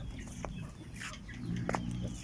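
Chickens clucking on a small Thai backyard poultry farm in the evening, a few short close clucks and calls over a low outdoor hum.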